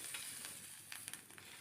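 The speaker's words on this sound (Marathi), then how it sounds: "तव्यामध्ये टाकल्या आणि एक चमचा तेल घातलं आणि ह्या मिरच्या चांगलं काळं डाग पडेपर्यंत चटाचटा भाजायचे ते" Green chillies roast in a spoonful of oil on a griddle pan, a faint hissing sizzle with a cluster of small sharp pops and spits near the end, heard close with no voices.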